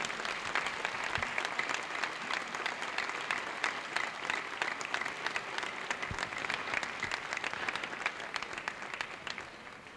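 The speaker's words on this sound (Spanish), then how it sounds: "yo creo que hay que aplaudirlas fuertes para animarlas." A crowd claps steadily and fairly loudly throughout at the opening speech of the San Antolín town festival in Medina del Campo, with dense, continuous applause and no talking.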